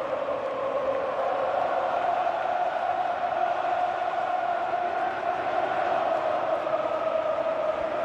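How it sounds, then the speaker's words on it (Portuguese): Football fans chanting in the stands of Mineirão stadium during a Brazil vs Argentina World Cup qualifier, a loud continuous massed crowd song filling the air without a break. "E não para de cantar o torcedor."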